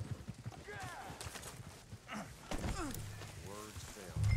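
Horse hooves clopping in the Red Dead Online western video game, steady rhythmic thuds under overlapping voices talking, growing louder toward the end.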